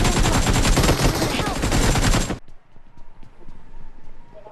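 Rapid automatic gunfire from a shooting video game, loud and dense for about two seconds, then cutting off abruptly to quieter scattered shots and game ambience.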